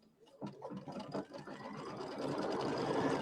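An embroidery machine quilts a pieced block with white thread, its rapid needle stitching whirring and rattling up close in a steady rhythm that grows denser and louder.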